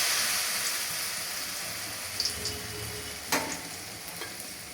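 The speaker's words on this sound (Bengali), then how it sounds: "এগুলাকে দিয়ে দেওয়া হচ্ছে গরম তেলে" Pumpkin flower fritters sizzle in hot oil, a steady crackling fry with occasional sharper pops and spatters, close and continuous, with no voices.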